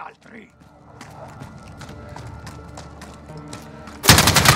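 Gunfire in the video game Call of Duty Modern Warfare: scattered shots under game ambience, then a loud, sustained burst of rapid automatic fire in the final half second.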